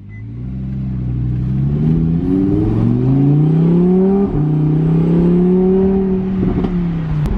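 A 2020 Lamborghini Huracan EVO, engine still cold and rev-limited, is revved up from idle: a loud, close engine note climbs and holds, then eases back, with no one talking.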